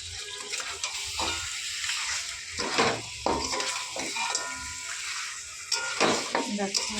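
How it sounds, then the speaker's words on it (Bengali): Mutton sizzling as it is stir-fried in a pan, a steady frying hiss broken by repeated scraping and clanking strokes of a spatula against the metal. "কিছুটা মাংস দিয়ে আগে কষিয়ে নিচ্ছি"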